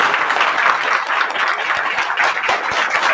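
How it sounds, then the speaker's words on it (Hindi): An audience breaks into loud, sustained applause, dense rapid clapping filling the room with a few sharper individual claps standing out. "एक बार हम चाहेंगे कि थोड़ा सा जोरदार ताली बजाएं।"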